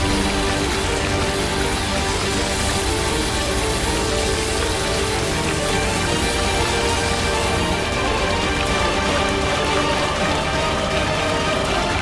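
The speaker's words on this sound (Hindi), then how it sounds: "2 मिनट भी नहीं रुकी ये बारिश।" Heavy rain pours down as a dense, even wash of noise that stays loud and unbroken from start to finish.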